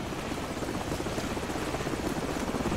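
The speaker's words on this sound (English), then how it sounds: "Hold on, the helicopter's back." Helicopter in the video game Call of Duty 4: Modern Warfare: a continuous rotor thump and engine drone, steady and moderately distant, with no voices over it.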